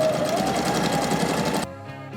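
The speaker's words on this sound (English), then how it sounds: "I'm gonna go ahead and put in my regular straight stitch that is a double straight stitch" A sewing machine runs a double straight stitch through upholstery fabric for a chair, a fast, steady, close mechanical whir that stops abruptly near the end.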